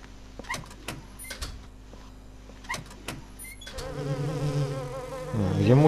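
Flies buzz in Silent Hill 4, a steady droning hum with sharp clicks and thumps early on, growing louder and denser toward the end, with no talk over it.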